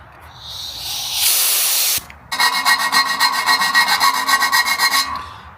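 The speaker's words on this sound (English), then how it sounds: "That's a brand new carbide bit, and a new one really does grab." A brand-new carbide bit grinds into metal while fitting add-ons to a 1959 Studebaker, first a steady hissing rasp for about a second, then after a brief pause a loud, rapidly pulsing cutting chatter that runs close and alone for several seconds.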